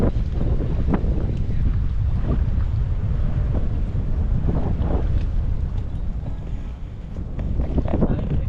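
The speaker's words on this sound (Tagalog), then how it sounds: "Oh, lakas ng hangin oh." Strong wind gusts roar against the microphone beside a rainy fishing pond, a constant low buffeting rumble, while voices call out now and then beneath it.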